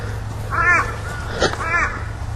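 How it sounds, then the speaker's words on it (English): Crows caw at an outdoor horse-training ground, two harsh hoarse calls in about two seconds with a brief click between, moderately near over a steady low hum. "A few crows here today, isn't there?"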